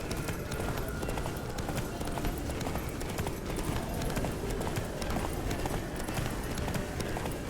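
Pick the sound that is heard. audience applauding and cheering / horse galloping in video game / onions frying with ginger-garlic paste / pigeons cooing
horse galloping in video game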